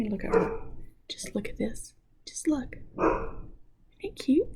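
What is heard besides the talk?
dog barking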